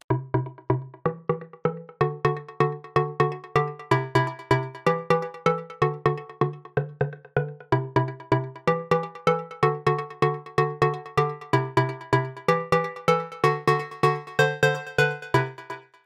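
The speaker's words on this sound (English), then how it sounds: "Next up we have Pluck Rivers, which is really more of a old school kind of Pluck sound that's used in deep house a lot" Old-school deep house pluck synth from the Diva plugin, a preset named Pluck Rivers, playing a fast, steady run of short bright plucked notes in a bouncy repeating melody, each note quick to strike and decay.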